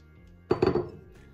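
A few quick clinks and taps against a bowl in close succession as three eggs are cracked in for pancake batter, short and crisp, then quiet.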